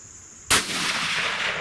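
A long-range rifle shot fired at a target jug in an outdoor shooting challenge, heard as a single sharp, loud crack followed by a sustained rolling echo that fades slowly.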